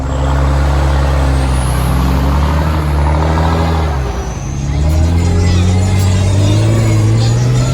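A mega truck drives through mud, its loud engine droning and shifting pitch up and down with a brief dip midway, heard close and without talk.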